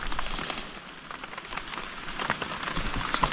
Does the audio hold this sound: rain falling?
yes